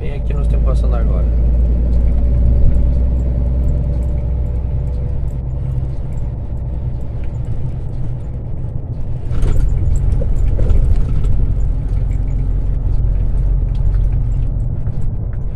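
A loaded truck rolls across a large, patched and potholed road bridge on the way to Barcarena, its engine rumbling low and steady with jolts and knocks from the uneven deck, continuous and close, under someone talking throughout.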